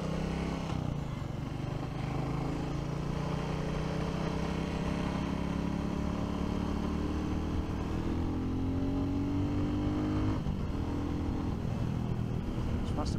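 A 2023 Royal Enfield Classic 350 motorcycle engine rumbles steadily throughout, a low continuous drone with a slight rise in pitch near the end, as if riding at moderate speed.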